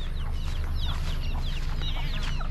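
Soft clucking from several chickens scattered over a steady low hum in the Philippines, the calls faint and intermittent.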